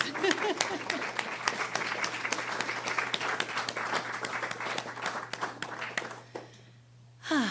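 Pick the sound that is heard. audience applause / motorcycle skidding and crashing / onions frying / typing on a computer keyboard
audience applause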